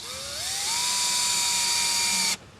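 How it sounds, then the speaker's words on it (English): A power drill drives screws into holes while building a compost turner, its motor whine rising in pitch as it spins up, then running steady and loud for about two seconds before cutting off abruptly. "I'm simply just going to screw these two screws into the holes."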